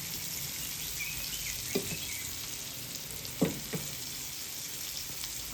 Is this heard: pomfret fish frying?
yes